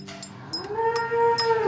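A cow lets out a single long, loud, close moo with a rising pitch, over faint background noise.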